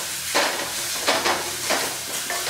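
Steady sizzling of spices frying in a pan for elephant foot yam fry, with several bursts of scraping and stirring spaced across the clip; no voices.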